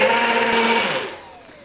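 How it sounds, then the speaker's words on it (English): A blender whirs loudly as it mixes hot keto coffee, a steady high motor whine that runs strong for about a second and then spins down and fades away. "So I'm just going to blend that here."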